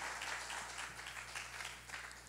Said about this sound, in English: How about you give them a round of applause to the youth and the kids of this church?